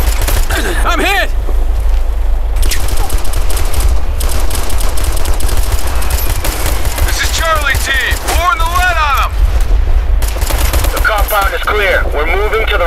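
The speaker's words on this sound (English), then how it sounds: "We're under fire. We're taking heavy fire." Heavy gunfire from the military shooter game Operation Flashpoint: Red River: dense, continuous automatic weapon fire and bursts rattle loudly throughout, with radio-style voices talking over the battle.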